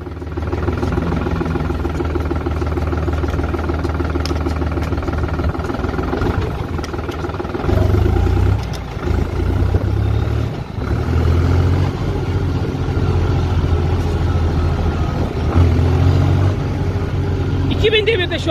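A New Holland T480 S tractor engine runs at raised revs during a driving test, a steady loud mechanical drone with low rumbling tones that shift and surge midway, continuous throughout with no talk.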